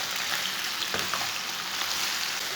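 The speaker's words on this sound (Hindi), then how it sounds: "5 मिनट तक इसे चम्मच चलाते हुए फ्राई कर लेंगे।" Okra sizzles steadily in hot oil, a dense continuous fry with faint scrapes as a spoon stirs through it, close and constant throughout.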